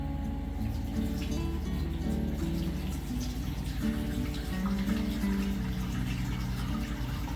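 Goat milk curds and whey for chevre poured slowly into a basket lined with a cloth sack towel, giving a steady close splashing and trickling of liquid that runs continuously without speech.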